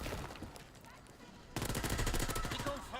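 Video game shotgun fire sounds loudly, with dense, rapid blasts that swell in the second half and a constant game mix underneath.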